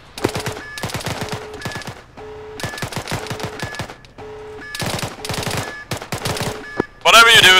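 Bursts of automatic gunfire and rapid single shots in Arma 3, loud and close, coming in several volleys separated by brief pauses, with a sharper, denser burst at the end and faint voices underneath.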